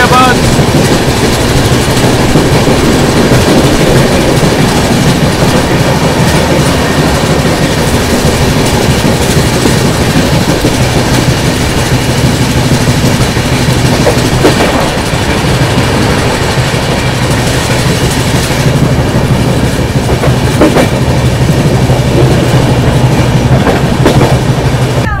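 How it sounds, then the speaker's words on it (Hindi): Loud, steady rumble and rhythmic clickety-clack of a New Delhi express train running at high speed, heard from inside the carriage, with a short wheel squeal partway through. "ट्रेन तो काफ़ी अच्छी खासी रफ्तार में चल रही है"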